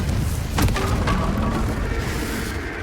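The Confringo blasting spell goes off in Hogwarts Legacy as a deep, rumbling boom with a sharp crack near the start, followed by a lingering low roar that gradually fades.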